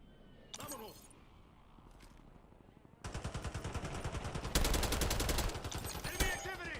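Gunfire rattles in the WarZone video game, with scattered single shots giving way to dense, rapid automatic bursts and heavier blasts, loud and close, with game voices heard in places.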